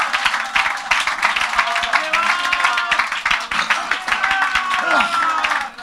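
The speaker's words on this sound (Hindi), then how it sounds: "ये जोरदार ताली बजा प्रभु धन्यवाद दीजिए." A church congregation claps loudly and rhythmically during worship, the many hands sounding lively but slightly uneven, with voices calling out over the applause.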